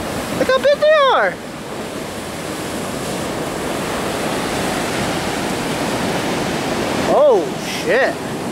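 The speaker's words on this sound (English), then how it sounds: "Look how big the waves are." Large ocean surf surges into a parking lot with a continuous close, heavy roar, while someone speaks briefly at the start and again near the end over the noise.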